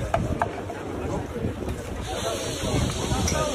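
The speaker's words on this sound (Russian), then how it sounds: "но ветер бывает очень сильный. Например, вот такой." Strong wind blowing across an exposed racetrack area, buffeting the microphone in a steady rough rumble with gusts, while a person talks over it.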